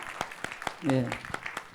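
Listeners at a history lecture commemorating the student independence movement clap in a steady, evenly spaced rhythm, with a short spoken word from a nearby voice in the middle.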